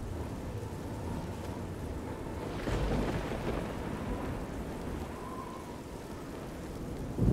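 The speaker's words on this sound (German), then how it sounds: "Und es regnet." Steady rain falls in The Elder Scrolls IV: Oblivion, a continuous even hiss throughout with a slightly louder swell near the middle and no talk over it.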